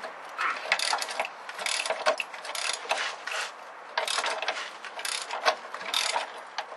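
A ratchet wrench works a 19 mm nut on top of a car's shock absorber, producing close, crisp bursts of rapid clicking in repeated strokes with short pauses between them.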